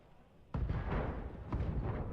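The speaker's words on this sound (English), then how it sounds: "Hey, ammo explosions." Ammo explodes inside a battle mech in the game BattleTech, a sudden thudding blast followed by a second rumbling burst, fairly quiet and with no talking.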